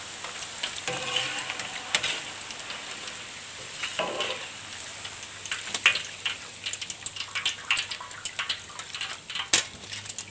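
Tempe chips fry in hot oil with a continuous crackling sizzle, punctuated by occasional clinks and scrapes of stirring close by.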